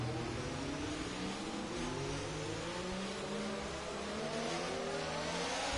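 A pack of race cars on new tyres rolls away on a racing-game restart at Silverstone, engines droning and climbing together in layered, rising tones that hold loud and steady throughout.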